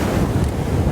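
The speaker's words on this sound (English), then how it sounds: "the waves moving up onto the rocks like that" Ocean waves wash up over shoreline rocks in a steady, dense rush of surf with wind buffeting the microphone, loud and continuous for under a second.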